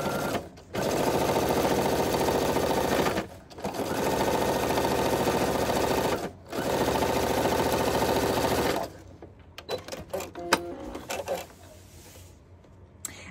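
Sewing machine stitching a quilt seam, steady close whirring run in three long bursts with short pauses, then stopping into light handling clicks and rustles.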